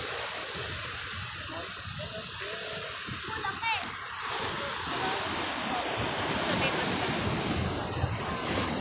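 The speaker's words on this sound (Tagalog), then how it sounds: "Dito po kami sa dagat." Steady wash of surf rolling onto a shore, with a constant broadband hiss and some wind buffeting.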